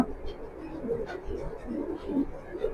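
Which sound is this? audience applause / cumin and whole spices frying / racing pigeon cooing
racing pigeon cooing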